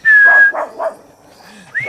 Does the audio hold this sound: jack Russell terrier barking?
yes